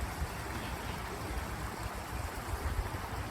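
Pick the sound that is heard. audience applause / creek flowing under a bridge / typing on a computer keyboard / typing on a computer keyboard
creek flowing under a bridge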